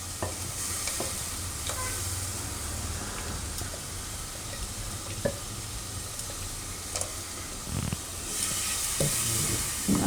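A spoon stirs gravy through a pan of sprouted chickpea and fenugreek curry, with a steady close sizzle and frying hiss and scattered scrapes and clicks of the utensil, growing louder near the end.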